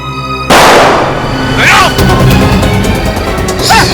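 A single sharp gunshot cracks loudly and abruptly from a handgun aimed at a CID officer in a crime drama, followed by ringing reverberation and a tense dramatic score.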